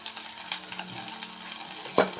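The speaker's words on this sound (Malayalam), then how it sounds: "എന്നിട്ട് നമുക്കതൊന്ന് ഇളക്കാം" Ginger, garlic, shallots and green chilies stirred in a hot pan for thiyal, a short burst of bright sizzling with light stirring and a sharp spatula scrape near the end.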